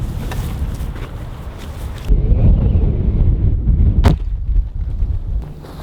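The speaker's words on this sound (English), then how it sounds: "Told you it was windy." Wind gusting hard against the microphone outdoors by a sheep enclosure, a broadband rumble that swells and roars louder from about two seconds on, with no talk.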